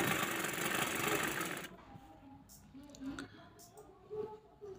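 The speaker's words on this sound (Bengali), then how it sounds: "এটাকে আমরা যখন সেলাই করব তখন সমান করে সেলাই করব না, টান দিয়ে দৌড়ে দৌড়ে বাজ করব আর সেলাই করব।" A sewing machine stitches a child's skirt in a loud, fast burst that stops after under two seconds, leaving quiet room sound and faint voice.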